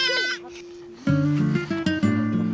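Goats bleat at a Mongolian nomad camp during milking time, with several loud, wavering cries rising close by and overlapping one another, and no talking.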